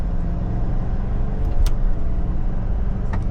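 A GMC Sierra HD pickup with the Duramax diesel engine accelerates at wide open throttle, giving a loud, steady low rumble that fills the whole moment with no voices over it.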